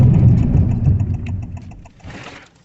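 A fifth-generation Honda City ZX with a manual gearbox and i-VTEC petrol engine runs loudly close by, its rumble fading away, then a brief burst of noise before silence.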